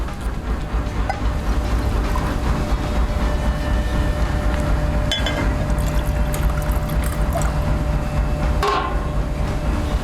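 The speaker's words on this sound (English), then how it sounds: "open the jar, and put fresh water into the jar" Fresh water poured into a jar in a workshop test of vacuum drying radiator coils, a continuous splashing pour running throughout over a low steady hum, with a couple of sharp clinks near the middle and end.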